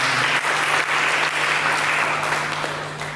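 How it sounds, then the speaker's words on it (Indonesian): Church congregation applauding during a worship service, a dense steady wash of many hands clapping together at full volume, tapering slightly toward the end with a faint sustained tone beneath. "Mari kita berikan tepuk tangan bagi Dia."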